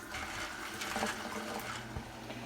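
Beans are rinsed under a steady stream of running water, a continuous close splashing and gushing with small fluctuations, no voices.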